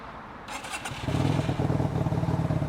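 A brand-new motorcycle's engine cranks over, catches and settles into a steady close idle with a lumpy, pulsing rhythm, with no talk over it.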